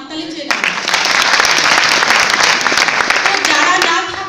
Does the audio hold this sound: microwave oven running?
no